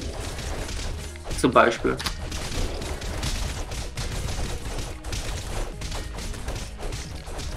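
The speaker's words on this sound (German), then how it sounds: "Weil du 20 Kanonen auf einer Stelle hast, die alle auf dich schießen." Dense, overlapping cannon fire from many cannons in the video game Castle Crashers, a continuous barrage of thuds and crashes mixed with game sounds, while a voice briefly speaks over it.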